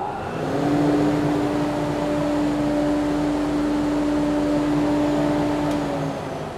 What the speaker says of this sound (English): I'll turn this extractor bag on and we'll see what the flow indicator is giving us.